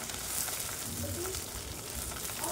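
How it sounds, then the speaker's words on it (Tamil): Onions frying in hot oil alongside curry leaves and coriander, giving a steady, dense sizzle that runs unbroken throughout at moderate loudness, with no talk over it. "நெக்ஸ்ட் வந்து அது ஹீட் ஆனோனே வெங்காயம் போட்டுப்போம்"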